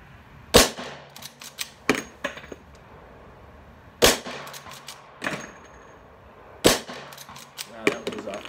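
Three loud, sharp shots from a Rossi Model 92 .357 Magnum lever-action rifle fired offhand at 50 yards on a range, spaced a few seconds apart, with the clack of the lever action cycling between them.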